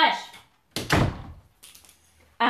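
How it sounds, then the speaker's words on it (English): A door at home is closed in a few quick knocks and thuds with short quiet gaps between them. The sounds are close and fairly sharp, and a final thunk comes near the end. "I'm going to close the door."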